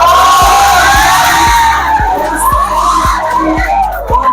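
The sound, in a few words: crowd cheering, clapping and whistling at a Teacher's Day celebration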